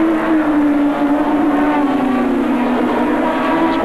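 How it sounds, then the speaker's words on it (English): Open-wheel race cars from the 1986 Formula Mondial race at Sandown drone loudly past, a sustained engine whine that slowly falls in pitch as they go through. "As Watson and Davison go through again, there's the race leader up ahead of them, Brett Lana."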